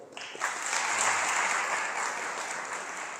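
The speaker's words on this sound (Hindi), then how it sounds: "एक बार सुचारू प्रभु के लिए ताली बजाओ" An audience claps for a speaker at a devotional program in a Gaudiya Math temple hall, a dense, steady wash of applause that rises quickly and holds loud and fairly close for the whole stretch, with no talk over it.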